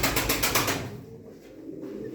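Pigeons cooing in a loft at a bird auction, low soft coos after a brief burst of rustling or flapping at the start, close and without talk.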